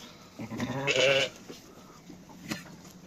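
Newborn lambs and sheep bleat in a farm pen during winter, one short, close call followed by a fainter bleat, over a quiet barn background with no talking.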